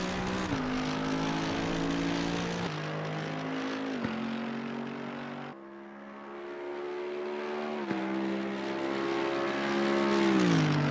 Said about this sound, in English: get on the gas to power through that chicane